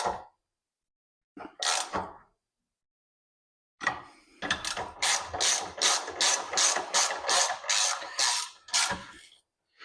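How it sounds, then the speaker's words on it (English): Ratchet spanner driving bolts into the wastegate of a PE turbo during assembly, heard as a few short clicks, a pause, then a steady run of rapid rhythmic ratcheting strokes close to the mic. "Let me put some bolts in."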